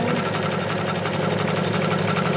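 An embroidery machine stitches an in-the-hoop ornament with a loud, steady mechanical hum and rapid rhythmic needle vibration, heard close and alone without any talk.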